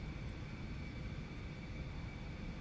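Aerobask Eclipse 550NG jet engine in the X-Plane 11 flight simulator, climbing toward 6,000 feet at high speed: a steady, even roar with a constant high whine layered over it, holding level throughout.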